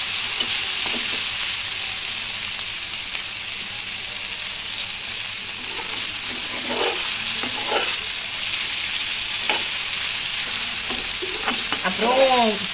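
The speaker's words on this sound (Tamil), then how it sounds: "பாருங்க ஃப்ரை ஆகும் போதே அந்த லைட்டா சுடுங்குதா கோவக்காய்" Ivy gourd (kovakkai) fries in a pan with a steady, bright sizzle throughout, with occasional soft stirring scrapes and a few faint background sounds.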